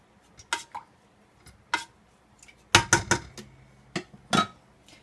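Smothered chicken being stirred in a rice cooker pot, with a handful of distinct metallic clinks and taps of a utensil against the pot, scattered irregularly and fairly close, with quiet pauses between.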